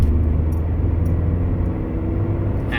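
A car engine pulling hard at full throttle in third gear, a dense, steady low rumble and drone heard up close without pause.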